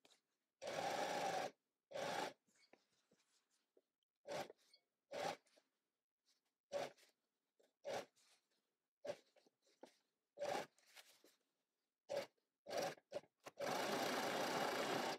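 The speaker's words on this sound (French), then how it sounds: "on va mettre un pied normal et on va tout simplement venir coudre ici" Home sewing machine with a standard presser foot stitching a trouser seam, in short bursts of rapid whirring between quiet pauses, with longer runs at the start and end, close and clear.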